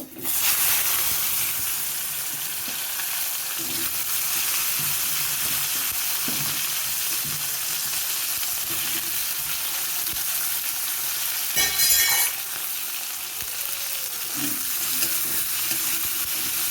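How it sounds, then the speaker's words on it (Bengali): Okra fries with a little turmeric in hot oil in a wok, a loud, continuous close sizzle with a brief scraping stir partway through and no speech. "এবারে আমি দিয়ে দেবো ভেন্ডিগুলো আমি একটু লাল করে ভেজে নেব।"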